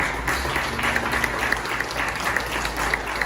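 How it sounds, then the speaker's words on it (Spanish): A church congregation applauds together, a dense, continuous wash of clapping that holds steady at full strength throughout, with a few louder individual claps standing out and no talk. "Démosle un aplauso."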